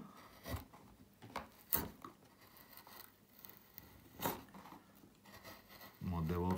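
A gouge carves a relief into a flat wooden board that has a knot. A few quiet, separate scraping cuts come with pauses between them, and a louder rasping burst follows at the end.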